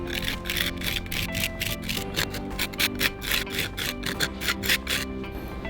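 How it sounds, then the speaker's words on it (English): A trowel smoothing Mapei Mapeflex acrylic sealant across a surface, a rhythmic series of short scraping strokes, close and fairly quiet, with no talking. "Smooth the surface using a trowel or a scraper."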